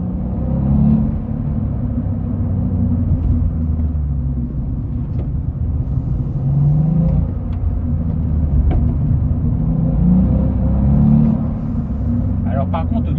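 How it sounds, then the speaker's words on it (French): A Volkswagen Up GTI with its 1.0 TSI three-cylinder engine drives along, producing a steady, loud low engine rumble that swells slightly at moments, with a sporty tone from inside the cabin and someone talking over it. "Alors par contre au niveau de la sonorité, je pense qu'il y a un résonateur de son à l'intérieur du véhicule, parce qu'il fait vraiment un bruit spécial, très sportif."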